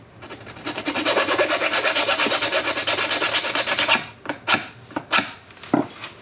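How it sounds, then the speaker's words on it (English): A metal file rasps rhythmically in fast, even back-and-forth strokes for about four seconds, smoothing a drilled burr, then a few separate scraping strokes and light knocks close by. "we'll just quickly file her down"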